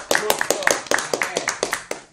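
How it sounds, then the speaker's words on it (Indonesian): Hands clap in a quick, even rhythm of about four sharp strikes per second at an anniversary gathering, crisp and close, and the beat keeps going through the whole moment. "Tepuk tangan buat Yori."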